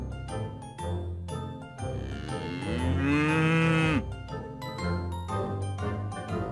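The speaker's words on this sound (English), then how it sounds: "The cow makes a loud sound." A cow lets out a single loud, drawn-out moo, a rising and falling bellow lasting about a second, heard close and clear amid surrounding farm sounds, with no talking.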